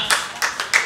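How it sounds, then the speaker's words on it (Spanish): A few sharp hand claps in quick succession, about four evenly spaced bursts, close and moderately loud, from a small audience at a circus-arts event for children. "Aplauso para ella."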